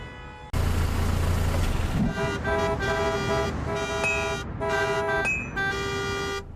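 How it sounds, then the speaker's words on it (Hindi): Morning traffic jam with a chorus of car horns, starting abruptly after a quiet moment, then repeated overlapping honks of different pitches over a rumbling engine bed. "अब हमें बस सुबह के ट्रैफिक जैम से निकलना होगा।"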